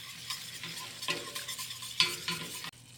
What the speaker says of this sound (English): Now I'll just take my jarred hot sauce. I use red hot.